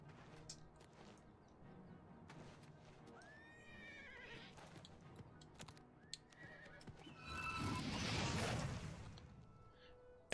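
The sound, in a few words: horse neighing and clip-clop hooves in video game Oblivion Remastered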